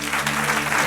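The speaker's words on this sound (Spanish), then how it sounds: "Dale un aplauso al Señor." Applause from a church congregation, a dense, steady wash of clapping close by, loud and continuous through the short moment with no voices over it.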